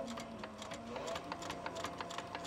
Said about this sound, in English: I'll just run a stitch on this one.